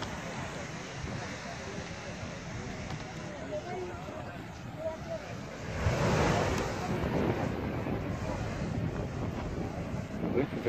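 Surf and wind at the Pría blowholes on the Asturian coast, a steady rushing wash that swells sharply into a louder surge of spouting water about halfway through. Wind buffets the microphone, and voices are heard nearby.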